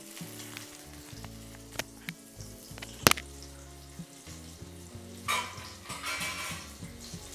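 Sweet potato slices sauté in a pan for a fasting-day thalipeeth, giving a soft sizzle with scattered utensil scrapes and one sharp clink of metal, close but fairly quiet.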